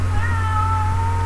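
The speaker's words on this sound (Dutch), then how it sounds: "Oh, dat is mijn kat." A pet cat meows indoors at a computer desk during an Agar.io game, thin drawn-out tonal cries over a steady low electrical hum, moderately close.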